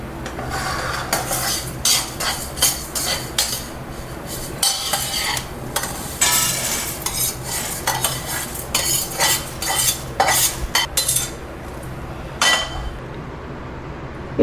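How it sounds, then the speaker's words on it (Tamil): Roasted horse gram scraped out of a pan onto a plate: repeated rattling scrapes and metallic clinks of a spoon against the pan in uneven bursts, with a faint sizzle underneath. "இப்போ இதை தனியாக ஒரு பிளேட்டில் கொட்டிக்குவோம்."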